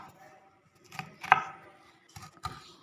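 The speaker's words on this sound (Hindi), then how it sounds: "और अब मिर्चों को बारीक काट लेंगे।" Green chillies are chopped finely with a knife, giving about four close, crisp chops at an uneven pace with short quiet gaps between them.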